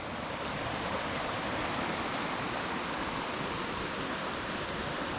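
Floodwater rushes through a swollen creek in a constant, loud, broadband roar with no breaks and no talk.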